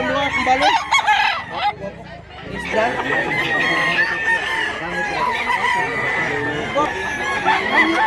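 Roosters crow repeatedly over a crowded yard of clucking white chickens at a rural farm in Mantalungon, Barili, Cebu, with voices talking in the background.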